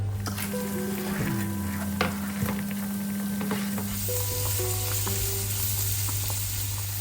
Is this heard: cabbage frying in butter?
yes